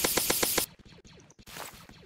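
Rapid automatic gunfire in the Roblox Zombie Attack video game, a fast even burst of repeated shots followed by quieter game effects and a short rushing blast.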